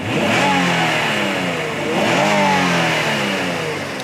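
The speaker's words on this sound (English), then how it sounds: "the VTEC sounds wild, right? So. Here, give it another riff." A Honda VTEC engine revs hard twice, the pitch sweeping up and falling back each time, loud and close with a rough induction roar.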